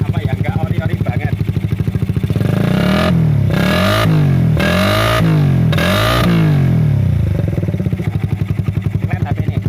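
A Suzuki Satria FU motorcycle with a PE28 carburetor and a non-original aftermarket exhaust idles with a fast, loud putter, then is revved hard in several sharp bursts before settling back to idle, close to the mic.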